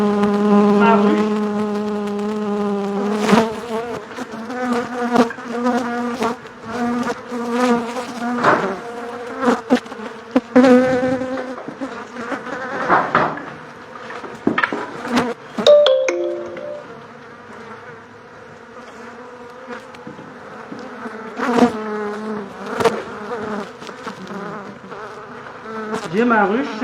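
Honeybees from a highly selected colony buzzing close and continuously during transfer to a new hive, a dense droning hum with wingbeat tones rising and falling and occasional knocks and handling noises.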